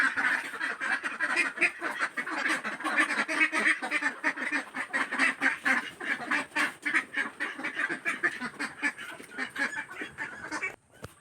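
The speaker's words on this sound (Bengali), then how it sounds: "আমাদের হাঁসগুলো এখন চলে যাবে।" A flock of ducks quacks and honks continuously at close range, a dense overlapping chorus of nasal calls that carries on without pause before trailing off at the very end.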